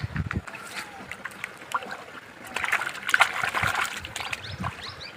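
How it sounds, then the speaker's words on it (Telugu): Water trickling and splashing steadily in an irrigation channel beside a tomato field, close by, with a person talking over it. "ఇక్కడ నిరంతరంగా గంగ వారుతూనే ఉంటుంది"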